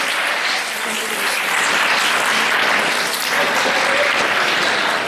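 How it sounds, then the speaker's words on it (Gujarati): An audience at a Catholic youth day celebration in Saloon applauds a sister receiving an honour, sustained dense clapping that holds steady and fairly loud for the whole stretch. "આપણે બધા એમને તાળીઓથી વધાવીએ"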